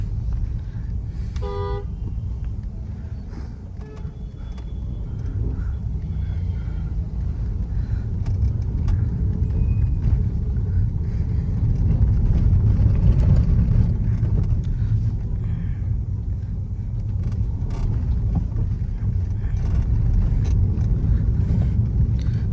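New car with an AC cabin on the move: steady low engine and road rumble throughout, a short horn toot near the start and faint rattles, with only occasional quiet talk.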